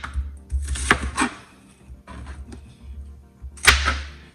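Knife chopping onions on a board in a home kitchen, with short bursts of cutting strokes separated by pauses and a sharp louder stroke near the end, close and fairly quiet with no talk.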